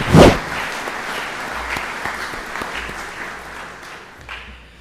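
An audience at a spring graduation ceremony claps together in steady, continuous applause that swells at the start and then holds at an even level. One sharp thump is heard at the onset.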